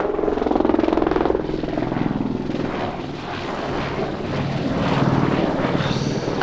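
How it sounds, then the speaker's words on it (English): Steady, loud helicopter rotor drone throughout, close overhead in Grand Cayman, with a continuous throbbing whir and engine roar. "I'll shout so you guys can hear me over the helicopter"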